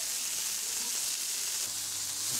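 Game meat fillets frying in a pan on a stove give a constant, close, hissing sizzle that runs evenly throughout with no voices.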